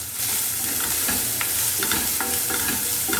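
Finely chopped onions and green chilli sizzle loudly in a pan, up close, with steady frying hiss and repeated scraping stirs throughout.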